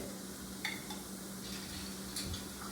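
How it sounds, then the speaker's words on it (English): Chopped tomatoes go into a skillet of browned mushrooms on low heat, giving a soft, steady sizzle close by with a few light clinks and stirring scrapes. "we're going to add 1 cup of chopped up tomatoes"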